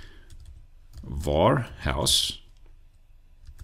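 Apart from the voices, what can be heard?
typing on a computer keyboard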